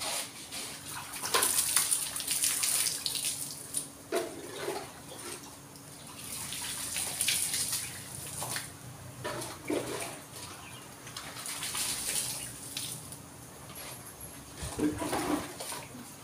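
Water runs steadily from a tap or hose at home, filling a container for watering potted plants, a soft continuous rush with occasional louder splashes and gurgles, moderately close and without talk.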